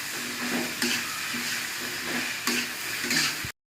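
Pumpkin frying in a pan with dried chapila fish, turmeric, ginger and garlic paste, a close steady sizzle with periodic stirring scrapes, then cutting off abruptly to silence.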